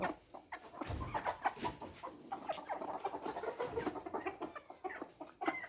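Chickens cluck repeatedly in a busy, overlapping chorus while feeding, close by, with scattered rustling and movement throughout.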